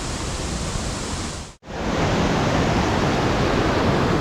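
A small waterfall beside a trekking trail in Nepal during monsoon season, a loud, steady broadband rush of falling water that cuts out briefly for an instant before resuming at full strength.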